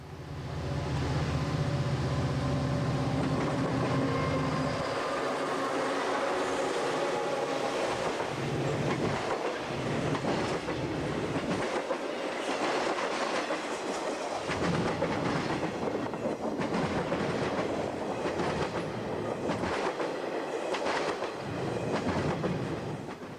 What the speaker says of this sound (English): UP southbound hotshot CHDAZ from Chicago, who had been waiting on the main, begins to pull.